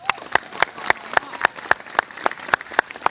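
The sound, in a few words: audience applause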